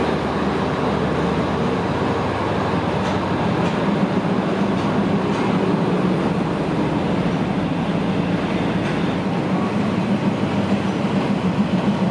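A diesel railcar train stands at a platform in Hua Lamphong station, Bangkok, its engine rumbling in a loud, steady, close drone with faint metallic clanks over the continuous noise.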